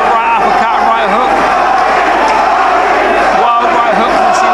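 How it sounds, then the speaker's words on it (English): A large boxing crowd sings and roars continuously at a professional fight night, a loud, steady wall of massed voices filling the arena. "And the crowd sing, he sold a few tickets, Hardy"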